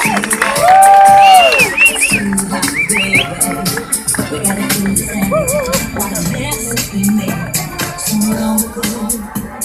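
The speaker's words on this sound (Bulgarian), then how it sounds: "Нека да ги изпратиме да се привлечат с вашите бурни аплодисменти." A crowd at a Miss Tuning 2016 beauty pageant claps and cheers for the contestants, with loud whoops and shouts over steady applause, and a voice briefly rises above the noise.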